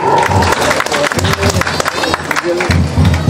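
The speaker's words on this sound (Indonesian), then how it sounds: "Mari kita berikan tepuk tangan sekali lagi untuk sektor Kalvari." Crowd applause for the Kalvari sector contingent at the opening of a church children and youth gathering in Tual, mixed with cheering, babble and rumbling low noise.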